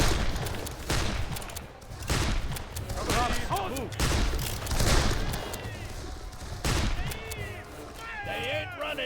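Musket volleys from firing lines in Darkest of Days, booming ragged salvos going off in waves with scattered shots between, while voices shout in the background.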